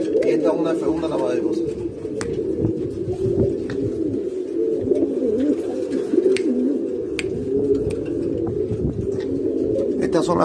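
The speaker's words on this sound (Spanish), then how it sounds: "Estas son las palomas que estoy trabajando." Racing pigeons in a breeding loft coo in soft overlapping rolls, close and continuous, with someone speaking over them and occasional sharp clicks and wing flutters.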